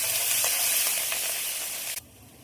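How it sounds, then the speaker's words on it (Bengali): Grated ginger sizzling and frying in a wok with whole spices, dried red chillies and bay leaves, a loud steady hiss with faint stirring scrapes, ending abruptly near the close. "আদা দিয়ে ভাজার জন্য খুব ভালো করে নেড়ে দেবো"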